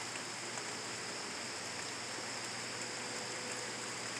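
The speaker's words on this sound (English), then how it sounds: "Yeah, really need this rain." Rain falls in a steady, even hiss with no breaks, a dense wash of drops at moderate level with no voices.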